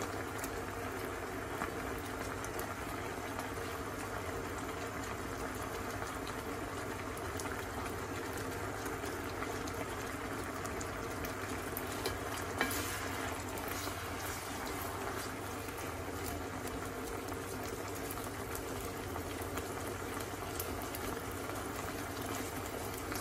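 Onions cooking in a pan of coconut-milk stew, giving a steady, even bubbling hiss that continues at a low, constant level throughout, with no voices.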